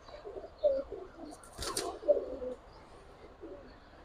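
Giribaz and coloured pigeons coo softly nearby, a few low rounded calls spread across the moment, with a brief sharper rustle in the middle and faint background noise.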